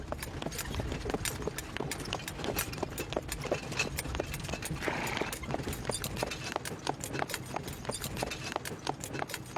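Hooves of a horse pulling a cart in the savanna clip-clop in a brisk, even rhythm, fairly quiet and continuous, with faint rattling beneath.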